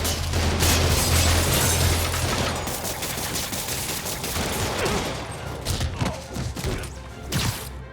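Rapid gunfire bursts from thugs in Marvel's Spider-Man Remastered on PS5, loud and dense at first, then thinning into scattered shots and impacts.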